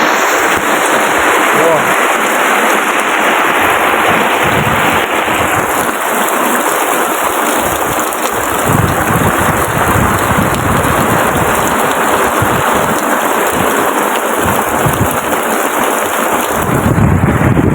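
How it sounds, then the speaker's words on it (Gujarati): Dense, loud downpour hissing steadily throughout, rain pounding on surfaces with constant spatter and a few deeper thumps. "ફૂલ વરસાદ ચાલુ હોય જોઈ લો"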